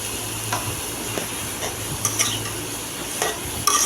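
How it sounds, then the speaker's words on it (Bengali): Taro sizzling and frying in a pan with turmeric powder while a spoon stirs it, steady hiss with repeated scraping strokes close by, no talking. "তো এটাকে ভালো করে নেড়ে নেব হলুদের গুঁড়া দিয়ে।"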